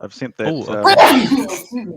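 One sharp human sneeze bursts out among a few people chatting, loud and close, the talk carrying on around it.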